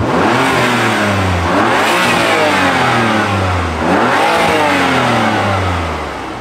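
BMW F80 M3 engine revving through its exhaust with the valve closed, a loud, steady car-engine drone with two rising-and-falling rev sweeps, close by with no talking.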